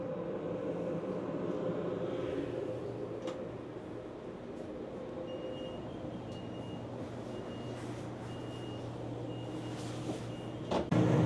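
Denver RTD light rail train heard from inside, a steady low rumble and hum running throughout, with occasional faint clicks and knocks and a louder clunk at the very end.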